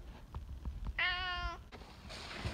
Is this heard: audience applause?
no